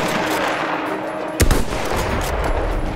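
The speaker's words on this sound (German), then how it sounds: "ich schieß voll in den Dreck rein hier" Gunfire from the Battlefield 1 video game: one sharp, loud burst of shots cuts in midway over a constant dense game-battle background.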